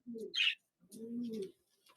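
A human voice imitating a bird cooing, two short soft coo phrases with a brief gap, close and quiet.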